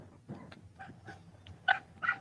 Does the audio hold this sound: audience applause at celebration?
no